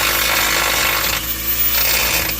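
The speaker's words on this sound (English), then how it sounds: "So now I'm just gonna grab the grinder and cut it out." An angle grinder cuts out a seized bolt in a driveway repair, a loud, harsh, continuous grinding whine up close that dips briefly midway as the load changes.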